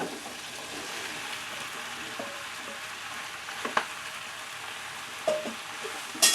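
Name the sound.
chayote frying in a pan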